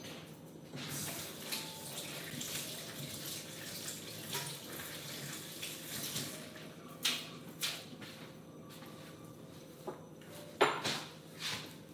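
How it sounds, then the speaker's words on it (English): Hands rinsed under a running kitchen tap, a soft steady water flow with intermittent splashes and a few clinks of dishes, fairly quiet and without talk. "Let me rinse my hands because I feel gross."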